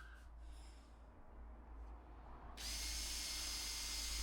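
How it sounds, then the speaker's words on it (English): A power drill bores a series of holes, its whine cutting in sharply partway through and then holding steady and fairly close, after a quieter stretch of low rumble and faint breathing. "I'm just going through a pile of holes, and then I'll turn it round and countersink the other side."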